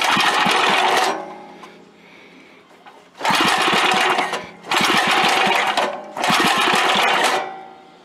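A cold-blooded Merry Tiller engine runs in three loud bursts of rough, rapid putt-putt firing, with a quieter idle-like lull between the first and second bursts.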